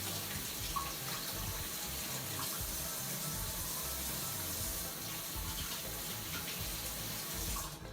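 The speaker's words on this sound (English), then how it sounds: "you should definitely rinse those in cool running water as well" Tomatoes are rinsed under cool running tap water in a sink, making a steady, continuous splashing rush that holds at a fairly even level throughout with no talking.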